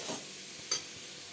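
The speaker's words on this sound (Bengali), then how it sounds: "ঢাকনা বন্ধ করে করে আমি ভাজবো মুলোটাকে" Grated radish fries in a covered pan with small shrimp, a soft continuous sizzle with one brief clink partway through, no voices present.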